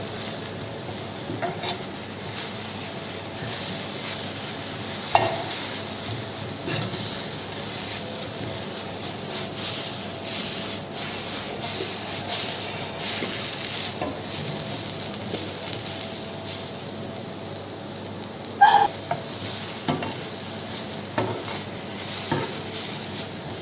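A Punjabi mutton dish simmering in oil over a very slow flame, giving a steady soft sizzle and bubbling throughout, with a few brief clinks of utensils against the pan near the end.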